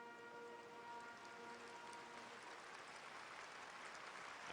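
Audience applauding a military band as its music ends at the 1997 Hong Kong handover ceremony on 30 June: a steady, broad wash of clapping from a large, distant crowd, with faint sustained tones lingering beneath.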